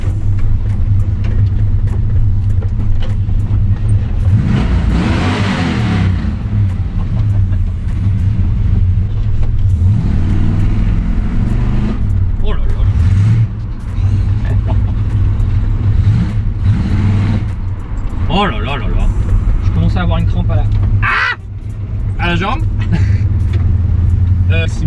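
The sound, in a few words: 1970 Chevrolet C10 pickup engine accelerating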